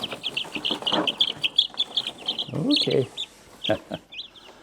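Young chicks chirping in high, rapid peeps while being handled and moved into a new coop, with a voice speaking briefly nearby and some shuffling and rustling.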